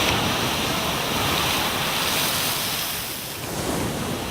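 A geyser erupting in Iceland produces a continuous, loud, broadband rush of water and steam, like heavy surf or spray, with a slight dip in intensity near the end and no voices.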